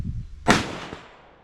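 A single sharp, loud report from a .308 rifle fired at steel targets on a range, with a short decaying echo trailing off after the shot.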